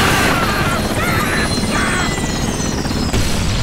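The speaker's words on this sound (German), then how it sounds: "Die Pflanze hat es geschafft, einen Hubschrauber runterzuholen" Helicopter in the shooter game Bulletstorm being brought down by a man-eating plant: a loud, constant rotor roar with a long descending whine and crash-like thuds. A voice is briefly heard near the start.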